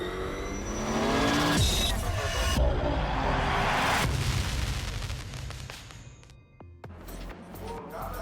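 A rallycross car races at the 2019 FIA World Rallycross of Catalunya, its engine roaring loudly as it passes. Tires and gravel crackle, then the noise fades into crowd and track ambience with a few sharp pops.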